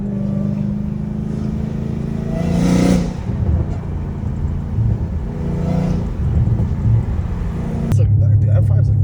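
A catless Dodge Hellcat Redeye rumbles and revs in a steady deep drone with a couple of swells at night, while people talk over it from inside the car.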